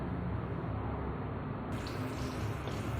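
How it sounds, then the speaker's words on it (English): Tap water running and splashing over a surface being rinsed after a bleach mold-stain cleaner, a steady close rush of water with a brief change in texture partway through. "let me rinse with the water"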